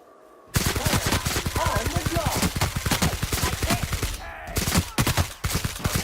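A magazine of corrosive-modded gunfire in The Outer Worlds empties in a rapid, loud burst of rhythmic shots that runs for several seconds, pauses briefly, then ends with a few final close cracks.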